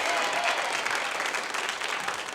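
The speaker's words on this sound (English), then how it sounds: "How about a round of applause for the little baby?" An audience at a live contestant event in Baton Rouge applauds the youngest contestant, a full, continuous roar of clapping hands that stays loud throughout with no talking on top.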